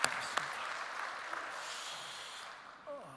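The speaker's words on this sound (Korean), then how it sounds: "하나님께 영광의 박수를 올려드립니다" A church congregation applauds during a Sunday service, a steady broad patter of clapping that carries through the clip and fades slightly toward the end.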